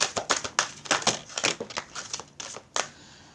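Tarot cards being shuffled at close range during a reading, giving rapid crisp papery riffles in a quick uneven run of bursts that ends in a final sharp snap, with no voices.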